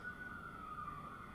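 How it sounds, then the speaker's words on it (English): An emergency vehicle siren wails outside an apartment after a large accident, a faint steady tone over a low background hum, with no voices. "If you hear the sirens, there's a huge accident just outside of my apartment"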